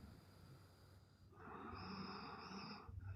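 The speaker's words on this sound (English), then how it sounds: "No, it definitely sounds like snoring." Someone snores faintly in the background of a quiet room, one drawn-out rasping breath rising and fading over about a second and a half, with no talking.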